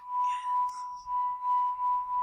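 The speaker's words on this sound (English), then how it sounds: "I was running my finger around the edge of the glass." A steady, pure ringing tone hums from a glass rim being rubbed, sustained and close, with a faint high whistle drifting near the start.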